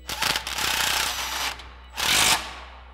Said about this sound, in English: grab our 11 millimeter socket on our impact and our 11 millimeter wrench, tighten down our new hardware